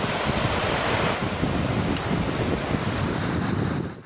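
Flood torrents rushing through Balochistan after heavy rain, a loud, continuous roar of turbulent water that holds steady throughout and eases slightly at the very end.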